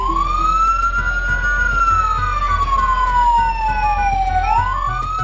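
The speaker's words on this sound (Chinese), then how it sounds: "听到远远的救护车，乌咦乌咦驶过来" A loud, close ambulance siren used as a radio drama sound effect, with one long continuous wail sliding slowly up and down in pitch over a steady low engine hum.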